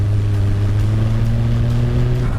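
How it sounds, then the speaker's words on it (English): A Mazda RX5 turbo pulls hard in 5th gear from about 25 mph, its engine drone steady and loud with a rising tone as the turbo comes in, continuous throughout with no talk. "Not a lot, and all of a sudden here comes the turbo."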